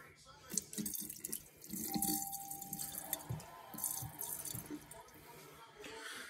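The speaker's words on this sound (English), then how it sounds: "Okay, I'm gonna pour the buttermilk out." Buttermilk is poured off freshly churned butter, giving a splashing, trickling liquid sound in uneven bursts, fairly quiet and close.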